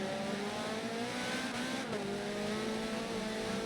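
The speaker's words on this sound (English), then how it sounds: "We got a little train of touring cars here." Touring race cars lapping Silverstone in a racing video game, several engines droning and revving together in a steady, continuous roar with slight pitch shifts, no voices.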